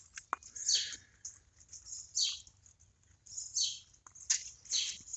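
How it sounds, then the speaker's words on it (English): A single bird chirps outdoors on a foggy farm morning, giving bright, repeated short calls in irregular bursts against quiet background air. "a chirping bird over there being annoying"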